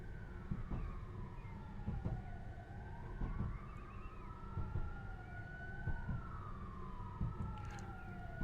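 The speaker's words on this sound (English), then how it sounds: "this is the only route that I know in Train Sim Classic where you hear all the inner city sirens" Wailing inner-city sirens in Train Sim Classic rise and fall in long sweeps at a moderate distance, over a low rumbling train background with occasional knocks.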